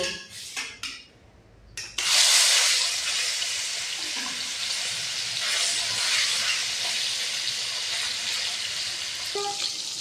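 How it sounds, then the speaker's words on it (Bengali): Chicken drops into hot oil in a wok with a sudden loud hiss after a few clinks, then a sustained, dense sizzle that stays close and strong to the end. "কড়াই গরম হয়ে গেছে, তেল দিয়ে দিয়েছি। এখন আমার ছেলের জন্য চিকেন ভাজা করে নেব।"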